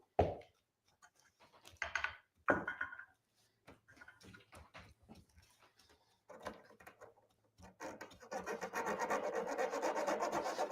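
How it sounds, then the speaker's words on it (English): A metal tart tin is filed to remove the sharp burr left by drilling: short bursts of rasping and rubbing, scattered at first, then a steady back-and-forth scraping in the last few seconds. "Just filing like the sharp little burr that you get when you drill."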